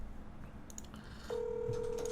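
A phone call is placed and goes unanswered: a few short keypad dialing beeps, then a steady ringing tone begins partway through and continues, heard quietly with no one speaking.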